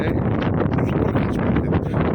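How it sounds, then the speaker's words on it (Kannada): Strong wind buffets the microphone at the seaside Tanah Lot temple in Bali, a steady, loud, full-bodied roar with no voices in the clip. "ಏನಂದರೆ ಬರೀ ಏನಂದರೆ ಗಾಳಿ ಜಾಸ್ತಿ ಗಾಳಿ"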